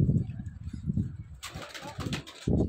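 Pigeons in a rooftop loft setup coo with low rhythmic throaty calls, close by, broken briefly by a burst of rustling or wing flutter.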